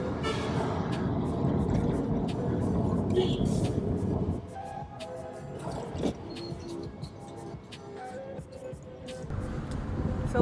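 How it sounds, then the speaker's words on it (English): A car drives through busy downtown Kingston, Jamaica, with a steady road rumble and engine drone, passing traffic noise and brief clatters, heard from inside with people talking. "just driving downtown now"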